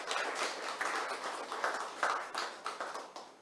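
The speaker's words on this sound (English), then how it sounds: "A big clap to all of you for this great success" An audience claps steadily at an anniversary gathering, a moderately distant, even patter of many hands with soft rhythmic peaks and nothing else over it.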